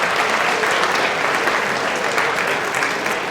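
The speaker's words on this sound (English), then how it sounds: "Round of applause for James, a great flipper there." A lecture audience gives a volunteer a round of applause during a public maths talk on risk. The clapping is dense and even, and fills the whole short stretch without any voices.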